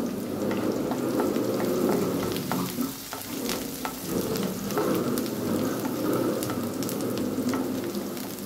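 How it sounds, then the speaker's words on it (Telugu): Mustard seeds, chana dal, curry leaves and thinly sliced onions fry on low heat in a pan, giving a steady, close, dense sizzle with occasional crackles and stirring scrapes throughout. "కొద్దిగా ఆవాలు, కొద్దిగా శనగబెడలు, అలానే కరివేపాకు, అలానే సన్నగా తరిగిన ఆనియన్స్ వేసుకొని సిమ్లో ఉంచుకొని ఫ్రై చేసుకోవాలి"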